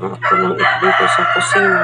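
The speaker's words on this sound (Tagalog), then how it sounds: "Sorry sa ingay lang ng manok sa kapitbahay namin." A rooster crows loudly and close by, its call drawn out over someone speaking in the foreground.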